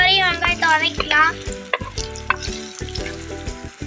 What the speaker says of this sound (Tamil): நல்லா ப்ரௌன் ஆகிற வரையும் வெங்காயத்தை வதக்கிக்கலாம்.